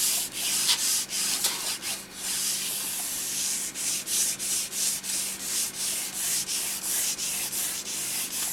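A wax wizard block is rubbed tip to tail along a ski base, giving a continuous dry scraping friction with rapid back-and-forth strokes, loud and close, without any talk.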